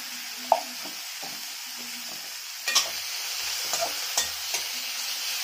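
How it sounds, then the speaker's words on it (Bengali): Spices such as chili powder and turmeric stir-fry in a pan with a steady sizzle, broken by a few soft scrapes and clinks from the spatula, with no talking. "ভালো করে ভেজে নিতে হবে।"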